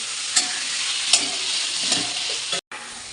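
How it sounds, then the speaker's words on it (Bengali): Potato pieces frying in a pan with a steady bright sizzle, broken by a few louder stirring scrapes and a brief pause near the end; spices were tempered with five-spice before the potatoes went in for a spinach dish. "আলুগুলো হালকা লাল লাল করে ভেজে নেবেন 2-3 মিনিট"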